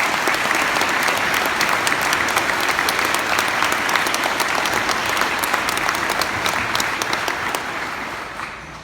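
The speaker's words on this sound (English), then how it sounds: "let's get a round of applause for the staff" A parish audience applauds its staff with a sustained, dense wash of clapping from a sizeable crowd, steady for several seconds before beginning to fade at the end.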